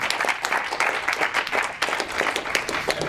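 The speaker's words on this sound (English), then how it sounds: "Big round of applause." An audience at a visual thinking Pictionary session breaks into lively applause, many hands clapping in a dense, steady burst lasting a few seconds.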